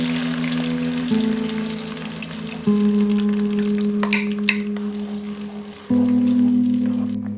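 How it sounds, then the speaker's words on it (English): Tomato, onion and green chili paste fries in hot oil with curry leaves, a continuous crackling sizzle, close and fairly loud, with occasional stirring scrapes and no speech. "Then keep frying till the water reduces."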